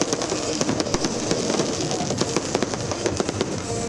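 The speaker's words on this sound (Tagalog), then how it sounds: "Agud masaksihan ang New Year's countdown kag fireworks display sa Bacolod City LGU." New Year's fireworks over Bacolod City, a dense continuous barrage of crackling bursts and sharp pops with a steady rumbling wash beneath, loud and unbroken throughout.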